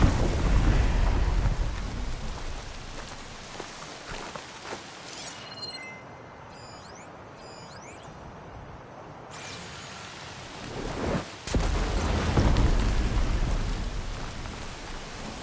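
Thunderstorm in the video game Horizon Forbidden West: heavy rain hisses steadily, easing for a few seconds before a sharp thunder crack and a renewed loud downpour with rumbling.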